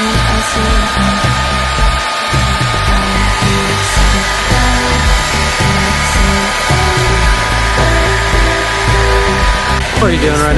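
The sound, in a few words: hair dryer blow drying dyed bucktail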